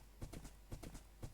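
Horse hooves clip-clop in a steady trotting rhythm in a blocky sandbox video game, a handful of close, crisp knocks heard alone at low volume.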